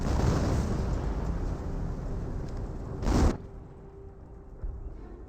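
Artillery fire in the WWII strategy game Company of Heroes 1 rumbles heavily at the start, then one short, punchy blast cracks out midway and the din quickly falls away.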